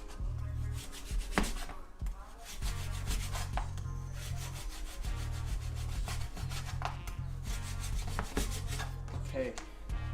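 Knife slicing through frozen pork belly into strips about 1.5 inches wide, with repeated scraping, rubbing strokes and sharp cutting knocks on a board in an irregular rhythm, close and fairly quiet.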